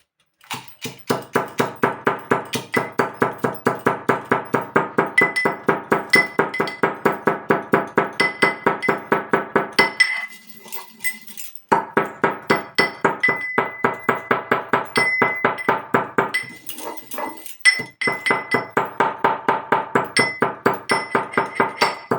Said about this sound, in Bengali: আমি এদিকে এটা গুঁড়ো করে নেব। এই 5 ফোড়ন আর শুকনো লঙ্কা।